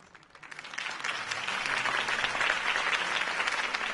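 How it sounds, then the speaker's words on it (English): Applause from a crowd at a campaign rally in the Batman Telltale video game, rising quickly and holding as a steady, dense clapping wash through to the end, with no talk over it. "If only Mr. Wayne, my campaign's largest backer, could have heard that applause"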